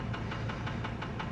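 A Mercedes W210 with the 2.7 CDI diesel engine idles with a rhythmic knocking, about five or six sharp regular taps over a continuous low engine hum, recorded close to the engine.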